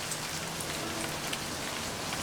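Rain in the video game Livber: Smoke and Mirrors: a steady, dense downpour pattering on surfaces, loud and close, with scattered individual drops and no talking.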